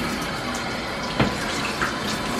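Shower water runs steadily during bathing, with a constant close hiss and a couple of brief splashes as the spray is moved around a person with a chest medical port.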